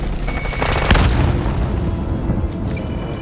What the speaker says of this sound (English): open it and just throw a grenade